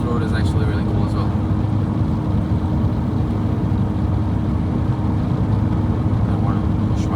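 A 180 HP VW Scirocco roars loudly and steadily from inside the cabin as it is floored and shifted through the gears on an open road, with a dense, constant engine and road noise.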